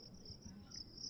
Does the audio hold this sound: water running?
no